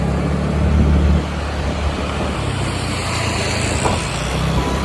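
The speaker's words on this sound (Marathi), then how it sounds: "तर मी गाडी चालवतोय." Car being driven on a road during a trip to the Shivrajyabhishek ceremony, a steady loud rumble of engine and road noise from inside, continuous throughout with no talking.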